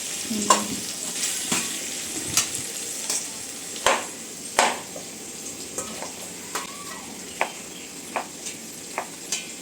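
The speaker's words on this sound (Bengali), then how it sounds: "লঙ্কা জিরা দিয়েছি আর হলুদ দিয়ে ভেজে নিচ্ছি ভালো করে" Dried chilli, cumin and turmeric fry with potatoes in a pan for a bottle gourd dish, a soft background sizzle broken by repeated sharp scrapes and taps of stirring at irregular intervals.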